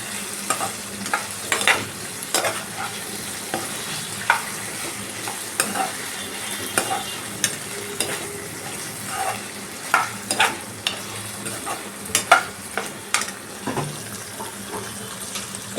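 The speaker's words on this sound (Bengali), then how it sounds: "ভেজে রাখা আলু ফুলকপিটাকে দিয়ে দিলাম।" Fried potato and cauliflower pieces being stirred in a pan for aloo dum, with repeated scraping and clattering strokes over a low sizzle, close and fairly loud, no talking.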